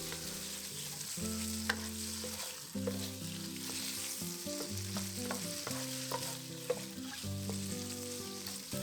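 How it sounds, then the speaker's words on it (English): Marinated pork stir-frying in a pan for Thai pad see ew, a steady close sizzle with intermittent scrapes and clinks of a utensil stirring the meat throughout, no talk. "Then add the marinated pork and cook it for a few minutes until it's almost done."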